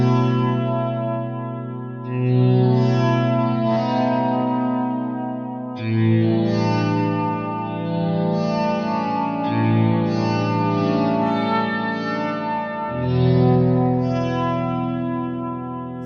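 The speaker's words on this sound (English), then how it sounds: "That's a lovely ambient guitar with a slow attack, which is great for kind of soundscapes." Korg Op Six synthesizer playing an ambient guitar-like patch with a slow attack, sustained chords swelling in and ringing out with chorus, echo and reverb, several overlapping notes forming a lush wash, loud and alone without talk.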